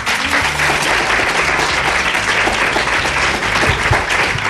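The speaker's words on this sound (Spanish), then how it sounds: "Fuerte el aplauso para Mariano, por favor" Steady, dense applause from a studio audience greets a road-safety director appearing as a guest on a live Aragón Radio programme, loud and sustained throughout with no voices over it.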